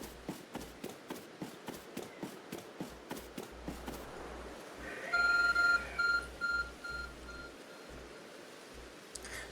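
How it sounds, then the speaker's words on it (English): Electronic beeping from the Arc Phone device in Pokémon Legends: Arceus, short high repeated bleeps starting midway, over steady game ambience with earlier rhythmic footstep-like thuds. "There's a glowing, beeping object over there."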